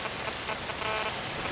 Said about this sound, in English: Just light rain and heavier rain, and some light winds even.